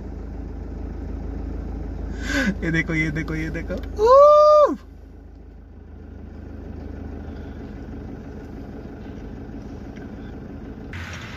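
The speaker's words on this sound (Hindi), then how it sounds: "मम्मी का कार ड्राइविंग स्टार्ट हो चुका है, आप लोग देख सकते हो" A car engine idles and hums steadily while a woman drives in sunny Hyderabad, with short bursts of speech and a loud rising electronic chirp partway through, then a quieter low rumble continuing to the end.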